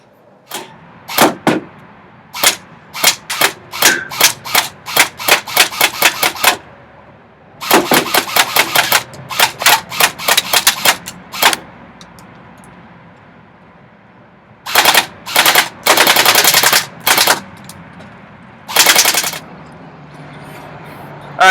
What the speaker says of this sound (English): We're going to take it outside and we're going to shoot it.